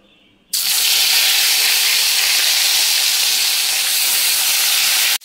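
Fish pieces dropped into hot oil in a pan for a Bengali fish curry burst into a loud, steady sizzle that starts abruptly and hisses on without pause, close and alone with no talking.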